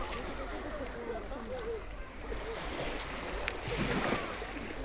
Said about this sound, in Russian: Сегодня красиво шепчет волны Азовского моря.